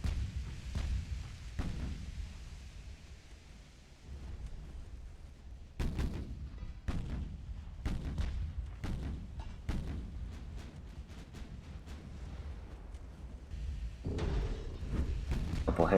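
Warship main guns fire in the naval battle game Ultimate Admiral: Dreadnoughts, a series of deep, booming blasts at irregular intervals with low rumbling between them, several shots clustered in the middle.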